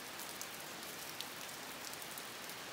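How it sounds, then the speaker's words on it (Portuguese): Heavy rain pours down outside a country farmhouse, a steady dense hiss of drops on surfaces that fills the whole moment without pause and with no voices. "olha que chuva maravilhosa que tá caindo"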